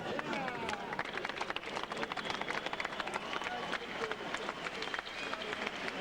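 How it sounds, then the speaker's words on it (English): Arena crowd applauding after the Prince Naseem Hamed vs Wilfredo Vasquez boxing match, a broad roomy wash of clapping mixed with crowd noise, steady throughout, with a commentator's voice running over it. "Applause in the ring for Wilfredo Vasquez"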